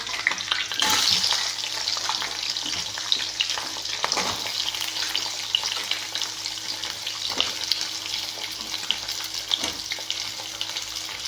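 Capsicum and onion petals stir-fry in hot oil with chopped garlic for restaurant-style chili chicken. Crackling sizzle sounds throughout, broken by repeated scraping stirs and utensil knocks.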